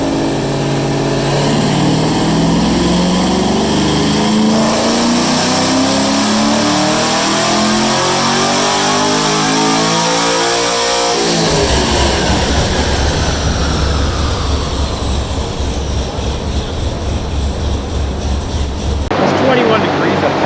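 A naturally aspirated fifth-generation Chevrolet Camaro Z/28 engine strains on a chassis dyno, its loud, steady roar climbing in pitch through the rev range before shifting into a harsher, noisier bellow that carries on near the end.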